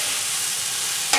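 Hash browns frying on a hot griddle, a steady close hiss and crackle of oil with no voices, ending with a brief scrape.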